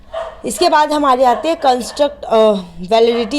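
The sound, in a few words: dogs barking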